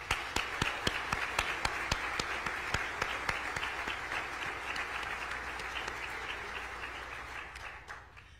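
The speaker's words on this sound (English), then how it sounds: "Will you all please give them a round of applause?" Round of applause from the audience at a mayor's state of the city speech in Lincoln, with a few sharp nearby claps standing out early over a steady crowd clapping that slowly fades toward the end.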